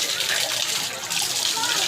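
Cold spring water gushing from the mouth of a Nandi statue, a loud, close, continuous rushing splash with no break.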